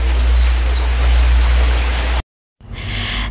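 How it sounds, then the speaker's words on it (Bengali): Steady rain hisses loudly on a surface, a dense constant patter that cuts out abruptly, then resumes more softly after a short silence. "শুধু বৃষ্টি বৃষ্টি বৃষ্টি বৃষ্টি চলতেই আছে"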